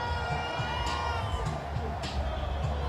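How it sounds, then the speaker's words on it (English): A parade crowd cheers along Battery Place in New York City during the Knicks championship parade, a dense, steady roar of voices and shouts with occasional louder whoops, filling the whole space without a break. "And listen to this crowd. It's electric down here on Battery Place, guys."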